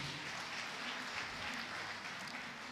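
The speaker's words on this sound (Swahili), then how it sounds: "Naomba tuwapigie makofi mazuri." Church congregation applauding together during a Sunday service, a steady, dense wash of clapping that holds at an even level throughout without pause.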